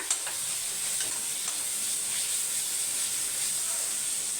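Ginger garlic paste frying with onions in a hot pan, a steady sizzle and hiss running throughout with soft scraping as the mixture is stirred, close and continuous with no voices.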